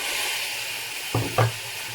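Vegetables sizzle in a pan with a soft steady hiss, broken by two quick scraping stirs of a utensil near the end, close by and without talk.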